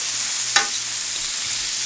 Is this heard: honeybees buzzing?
no